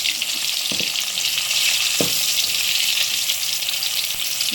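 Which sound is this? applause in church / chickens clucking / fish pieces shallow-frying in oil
fish pieces shallow-frying in oil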